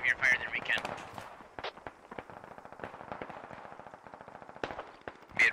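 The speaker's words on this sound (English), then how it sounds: "at least some of that suppressive fire is coming from the Four Mountain area" Suppressive gunfire in a military shooter rattles as rapid, distant automatic bursts and scattered shots, crackling steadily beneath radio chatter and talking voices.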